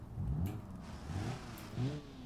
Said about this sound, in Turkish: öyle bildiğiniz normal araba sesi yani.